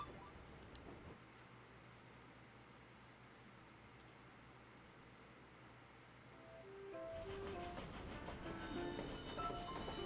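A train in the video game World of Final Fantasy rumbles with a low, steady, quiet drone, then grows louder and busier partway through as bright tonal chimes join in.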